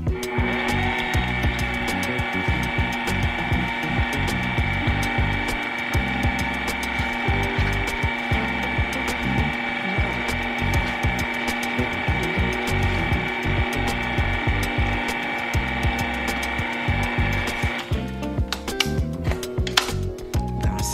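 An electric mixer mixing chocolate cream cheese pound cake batter whirs steadily at low speed with a constant motor hum and rhythmic churning, then cuts off near the end.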